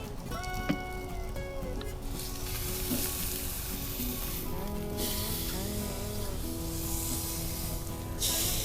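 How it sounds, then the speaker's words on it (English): Beef tenderloin sears on a kamado grill over direct heat, a continuous close sizzle with occasional scraping and shifting noises throughout. "You can hear that sear."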